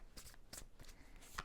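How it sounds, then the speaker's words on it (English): Tarot cards riffle and snap in a few quick, soft bursts, close and quiet, with no voices. "2 more shuffles, please"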